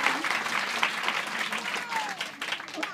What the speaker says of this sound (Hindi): आप लोग एक बार जोरदार ताली से स्वागत करें